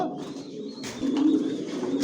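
Racer pigeons, a breeding master pair, coo in low, throaty rolls, close by and fairly steady, with a faint voice in the background.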